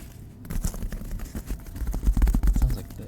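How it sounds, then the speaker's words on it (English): Tapping on a new styrofoam pad with quick fingertips, a rapid, dense run of dry, light taps that grows louder and busier toward the end, close up and alone. "Could you do styrofoam taps?"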